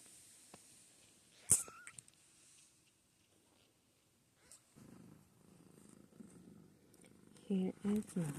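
A mother cat lies with her six-day-old kittens, purring softly and faintly in a low rumble, broken by a few small squeaks and a sharp rustle.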